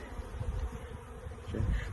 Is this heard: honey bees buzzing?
yes